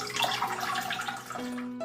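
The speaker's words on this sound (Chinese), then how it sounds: "糯米淘洗干净了，稍稍把水沥干。" Glutinous rice being washed in water, heard as soft, continuous sloshing and swirling for a couple of seconds, fairly faint and close by.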